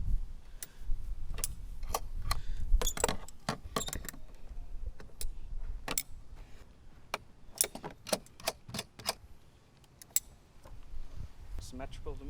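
Bolts and nuts are tightened on a carbon fiber splitter for a Veloster N, sharp metallic clicks and ratchet ticks in irregular bursts, close and crisp against a quiet garage background.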